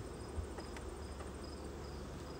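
Honey bees hum at their hive ahead of autumn feeding, a dense, even buzz that fills the whole moment without a break and with no talk over it.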